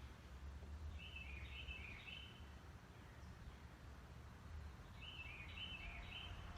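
Birds sing outdoors on a calm spring day, two faint short trilling phrases a few seconds apart over low background hum.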